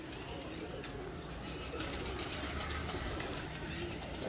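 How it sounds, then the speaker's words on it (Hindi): Pigeons cooing softly amid a busy, noisy outdoor background while they feed on scattered grain, with faint rustling and a low steady hum throughout. "बाकी दाना शाना डार कबूतर खा रहे हैं"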